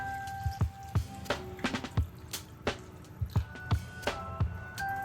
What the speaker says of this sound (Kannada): ನೀರು ಆ್ಯಡ್ ಮಾಡ್ತಾ ಇದ್ದೀನಿ